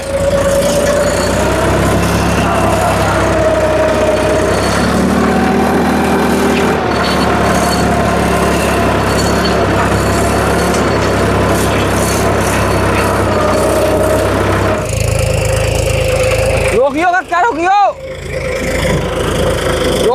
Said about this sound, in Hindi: ट्रैक्टर चलाओ भैया